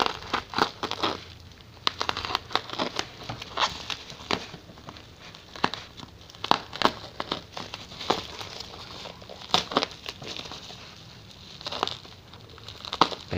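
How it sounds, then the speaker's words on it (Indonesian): Crinkling plastic and cardboard packaging of a Midasforce 128GB SSD being unboxed, with a steady run of close crackles, rustles and taps throughout and no talking. "langsung saja nih saya unboxing teman-teman"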